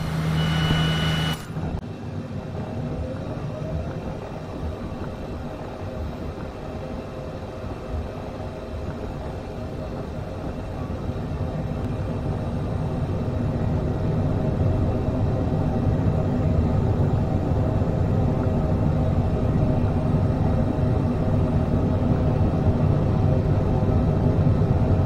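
Airliner engines spooling up for takeoff in Microsoft Flight Simulator 2020, a steady broadband jet roar that builds slowly and grows louder over about twenty-five seconds, after a brief cockpit tone at the start, with no talk.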